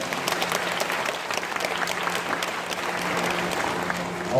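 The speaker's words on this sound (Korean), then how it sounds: "큰 박수 부탁드리겠습니다" An audience at a high school admissions information session claps together in a steady, dense round of applause that holds at an even level for several seconds.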